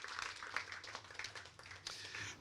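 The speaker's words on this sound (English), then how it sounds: "give these two families a great round of applause" Applause for two families at a celebration, a dense, steady crowd clapping that runs throughout with slight swells, fairly distant and even.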